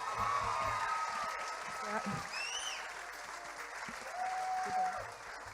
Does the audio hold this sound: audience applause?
yes